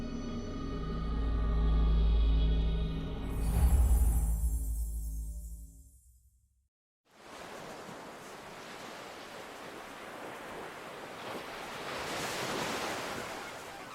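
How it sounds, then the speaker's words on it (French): Ocean waves washing onto an untouched island beach, a steady broadband surf roar heard alone, preceded by a fading low rumbling swell and a brief drop to near silence before the waves come in. "Voici la plage telle que les premiers colons ont vue."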